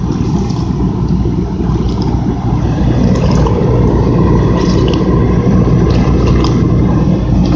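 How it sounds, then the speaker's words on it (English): A salamander heater roars steadily and loudly without a break, a dense continuous rumble from a heater running to boil a radiator during muriatic acid cleaning. "I got the salamander to boil the radiator."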